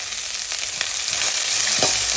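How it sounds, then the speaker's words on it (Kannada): Peanuts, onion and green chillies fry in hot oil in a pan, giving a steady close sizzle with a few soft stirring clicks and no talk. "ಅದೇ ಬಾಣಲೆಗೆ ಈರುಳ್ಳಿ ಜೊತೆಗೆ ನೆಕ್ಸ್ಟ್ ಮೆಣಸಿನಕಾಯಿ ಹಾಕ್ತಾ ಇದ್ದೀನಿ. ನೆಕ್ಸ್ಟ್ ಕಡಲೆ ಬೀಜ ಹಾಕ್ತಾ ಇದ್ದೀನಿ."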